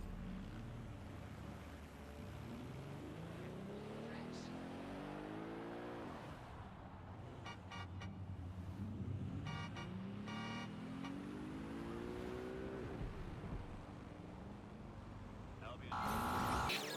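A car in the video game Watch Dogs: Legion driving itself on auto drive, its engine rising and falling through repeated gear-like sweeps, steady and moderately loud, with game sounds in the background.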